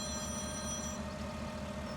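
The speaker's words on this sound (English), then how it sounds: "Oh, that's my phone ringing again." A phone rings in Farming Simulator 17, with a thin repeating tone over the steady rumble of an idling farm vehicle engine.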